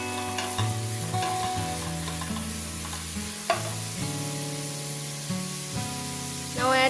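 Biryani leaves frying and being stirred in a pan, a steady sizzle with scraping stirring strokes, close and alone with music-like tones underneath.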